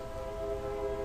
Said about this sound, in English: Oh my god, the train's back! Welcome back, train!